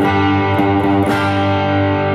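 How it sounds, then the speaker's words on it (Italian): An electric guitar rings out through a distortion effect, a loud sustained fuzzy chord with a couple of brief re-picked strums, played alone without voices. "accendiamo la nostra distorsione ed ecco che otteniamo un suono"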